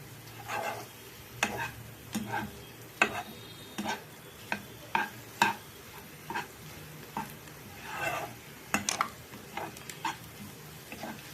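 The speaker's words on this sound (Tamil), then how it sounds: "நல்லா மிக்ஸ் பண்ணிக்கலாம் இல்லையா" Maggi noodles mixed with egg and masala in a pan, with a spoon giving repeated scraping taps and clinks in an uneven rhythm over a faint sizzle, close up with no talking.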